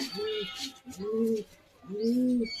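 Racing pigeons cooing up close, three deep, drawn-out coos in slow succession with short pauses between them.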